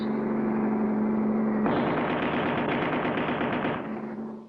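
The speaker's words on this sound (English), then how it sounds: "Willie, get ready with that turret gun." Cartoon turret gun firing from a hot rod chase: a steady engine drone gives way to a rapid, continuous burst of machine-gun fire lasting about two seconds, then the droning motor carries on alone and fades.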